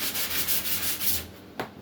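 Close, steady back-and-forth rasping of sandpaper over a drywall joint, in even rhythmic strokes, ending with one sharper scrape.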